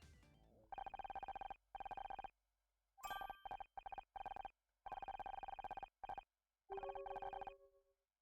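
A telephone rings in the Murder by Numbers video game, with repeated electronic ring bursts in a clear on-off rhythm, fairly close and alone.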